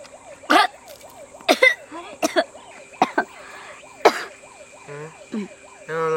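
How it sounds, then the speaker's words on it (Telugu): Several sharp, loud coughs and throat-clearing bursts come in separate bouts, close by, over a wailing siren that rises and falls in the background, with a voice heard at the end. "ఎవరో దగ్గుతారు."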